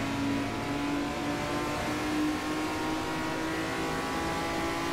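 A car engine revs steadily in the Forza Motorsport 4 racing game, a loud, sustained droning roar with a constant pitch that holds for several seconds without talk.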